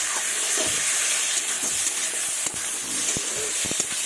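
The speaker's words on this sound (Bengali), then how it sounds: "দেখুন কষানো হচ্ছে ভালোভাবে।" Fish curry with eggplant and tomato sautéing in a pan, a constant loud hiss and sizzle with scattered clicks and spatula scrapes, close up, no talking.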